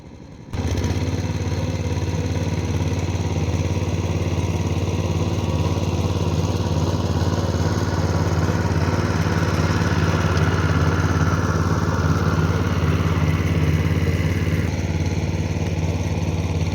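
A small engine on a potato planter starts up and runs steadily, a loud, continuous mid-pitched drone with clattering overtones that holds at close range with no talk over it.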